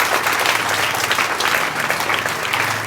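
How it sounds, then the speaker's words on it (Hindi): Loud, dense applause from an audience at a student award ceremony honoring top-scoring pupils, steady clapping filling the hall without pause from start to finish. "एक जोरदार ताली होना चाहिए।"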